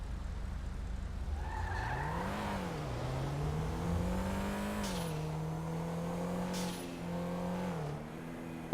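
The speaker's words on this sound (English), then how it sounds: "Who would ever thought a smart car have turbo?" A turbocharged smart car engine in GTA 5 revs up and down in rising and falling sweeps, with tire squeal and whooshing bursts, fairly close and continuous for several seconds.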